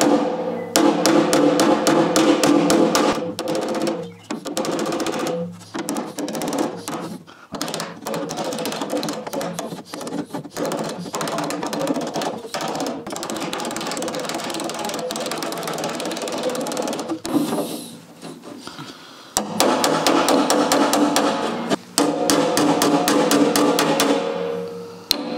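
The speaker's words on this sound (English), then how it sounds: "And then I'm just hammering it flat." Rapid metal-on-metal hammer blows on a David Brown 990 tractor fender panel held against a dolly, a dense, loud, fast rhythm of strikes with short pauses, alone with no talk.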